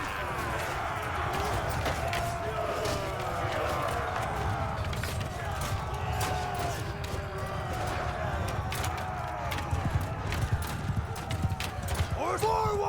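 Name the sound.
cavalry horses galloping in Mount & Blade II: Bannerlord video game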